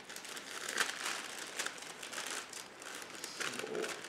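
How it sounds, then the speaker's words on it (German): Paper bags are unfolded while making a white Christmas star decoration. Close, continuous crinkling and rustling comes in short bursts, with no talk. "Und jetzt klappt man diese Tüten auseinander."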